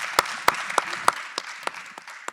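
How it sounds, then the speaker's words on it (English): Small audience applauding at the close of a regional symposium session, a brief sparse round of individual distinct claps, steady and fairly close, with a faint background wash. "This round of applause is for you."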